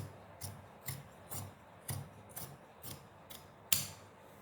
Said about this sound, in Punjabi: ਹੁਣ ਆਪਾਂ ਇਹਨੂੰ ਕਰ ਦਿੰਨੇ ਆ ਕਟਿੰਗ